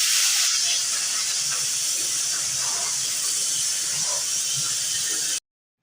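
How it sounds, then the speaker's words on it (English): Plasma cutter slicing through steel plates on the frame rails of a 1955 International cab-over truck, a steady loud hiss lasting about five seconds before cutting off abruptly. "Got a plasma cutter here."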